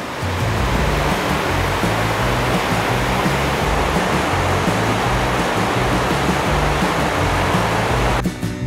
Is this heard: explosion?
no